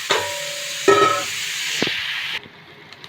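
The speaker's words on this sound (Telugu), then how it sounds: "ఇందులోకి కట్ చేసి పెట్టుకున్న మష్రూమ్స్ని వేసుకొని" Sliced mushrooms hit a hot pan for a village-style spicy mushroom curry. The hiss and sizzle comes in a few bursts, with stirring clatter between them, then settles to a quieter fry.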